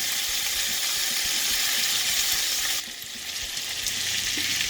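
Salmon fish curry with potatoes fries in mustard oil in a pan, giving a steady, close hiss of sizzling that dips briefly partway through and then continues.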